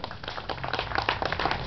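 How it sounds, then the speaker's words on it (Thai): Audience at a motorcycle association meeting clapping together in a steady, dense burst of applause, fairly close and loud for a brief moment. "ปรบมือนะครับ"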